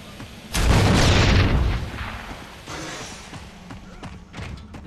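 A grenade explosion in Gears of War 3 multiplayer on the Anvil map: a heavy, close thump that rolls out over about a second with a muffled boom, followed by quieter game noise and thuds.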